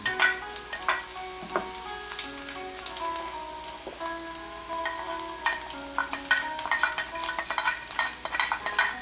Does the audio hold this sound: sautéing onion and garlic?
yes